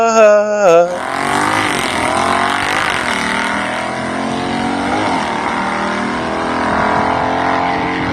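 A 1963.5 Ford Galaxie drag car with an H-pattern shifter screams down the track in a loud, sustained engine roar, its pitch rising and dipping through quick shifts, preceded by a brief tonal sound.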